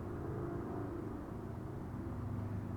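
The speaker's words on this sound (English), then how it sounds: "We're going to be dealing with a lot of traffic though" Highway traffic heard from a cell block of Nevada State Prison overlooking the road, a steady low distant rumble with no distinct passing vehicles.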